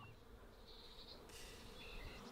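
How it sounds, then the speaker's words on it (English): Bees swarm around a hive in a garden, a faint, continuous buzzing drone from many insects that shifts slightly in pitch, heard alone at a distance with no voices. "Goodness, there's bees everywhere."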